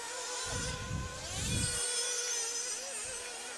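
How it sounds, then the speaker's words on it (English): High-pitched, buzzing nitro engines of 1/8 scale IC off-road RC cars whine and rev at a European Championships race in heavy rain, several overlapping engines rising and falling at mid distance with a low rumble. "the 3 cars go away from us on the triple and come back towards us again"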